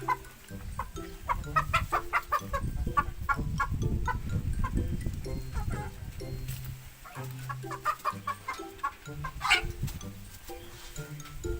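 Chickens cluck and squawk continuously close by, several birds overlapping amid busy farmyard clatter.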